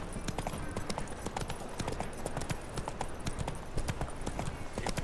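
Roach, a horse in The Witcher 3 video game, gallops in a fast, continuous run of hoof beats, close and steady.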